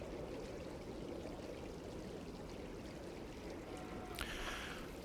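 Flowing water in the arctic biome of the ARK Genesis video game, heard as a faint, constant stream-like wash with a brief brighter splash near the end.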